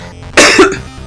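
A single short, loud cough bursts out close up, followed by a brief raspy tail before quiet returns.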